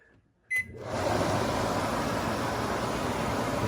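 Black+Decker over-the-range microwave with a top-mount air recirculation vent: a short beep, then the vent fan starts and blows with a steady, even whoosh that carries on to the end.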